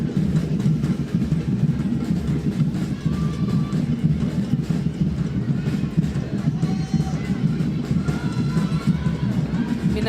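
A lively football stadium crowd at a Northern Super League women's match in rainy conditions forms a dense, loud, continuous roar of voices and noise, with a commentator talking over it.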